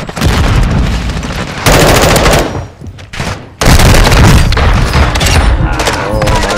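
Heavy video game gunfire: loud, sustained bursts of rapid shots and booms, dense and close, with a short lull before the firing resumes at full force.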